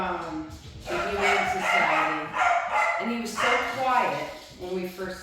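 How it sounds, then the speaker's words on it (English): Pet dogs bark loudly indoors, several yips and whimpering barks in repeated bursts close by, overlapping with speech. "Those are my dogs. They are very loud and obnoxious"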